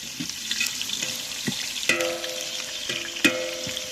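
A ladle stirs biryani in a pot over a wood fire in a village kitchen, with scraping knocks and clinks against the pot over a soft sizzle, close and moderately loud, no talking.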